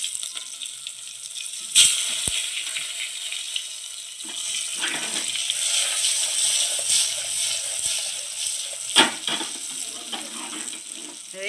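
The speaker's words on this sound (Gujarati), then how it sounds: "હવે કરી નાખ્યો છે રીંગણાનો વઘાર" Brinjal tempering hits hot oil in a pan, a moderate sizzle and crackle rising from a quieter start, with a couple of sharp clinks of a utensil along the way.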